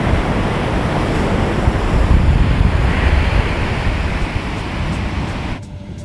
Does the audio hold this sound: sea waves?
yes